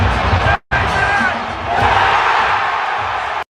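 A basketball arena crowd roars in a dense, loud wash of cheering and shouting, captured from the stands, with one brief dropout and a swell near the middle.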